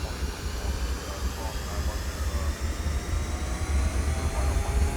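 A BAe146 airliner's four jet engines spool up toward takeoff power in a flight simulator, a low steady roar that swells gradually louder with a faint whine above it.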